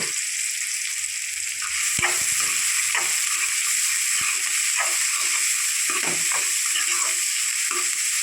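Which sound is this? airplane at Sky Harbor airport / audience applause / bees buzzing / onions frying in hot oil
onions frying in hot oil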